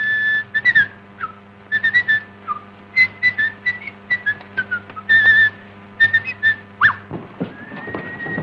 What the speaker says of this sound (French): C'est vous qui sifflez? Oui, je sifflais un peu.